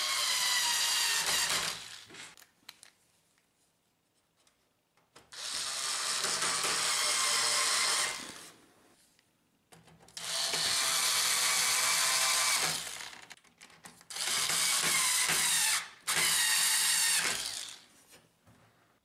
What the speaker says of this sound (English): Reinstall the four screws of the top cover.